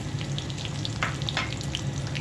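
Dried red chillies, five-spice seeds and chopped garlic fry in mustard oil with a steady soft sizzle. Small crackles and pops dot the hiss throughout.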